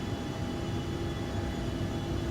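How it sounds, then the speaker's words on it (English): Steady, loud cabin roar from the jet engines of an Embraer ERJ-145 in flight, a constant broadband drone with no speech. "Again, just lowering flaps down to 22. And adjusting throttle."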